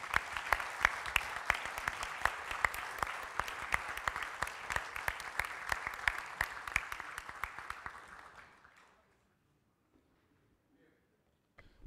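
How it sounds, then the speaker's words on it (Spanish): A law conference audience claps at length with sharp individual claps standing out in the dense applause, which dies away around eight seconds and leaves near silence. "Así que un aplauso para todos."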